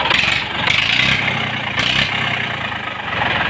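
Tractor engine revved through a bare pipe fitted in place of the silencer, a loud harsh rumbling roar that swells and eases in waves close by.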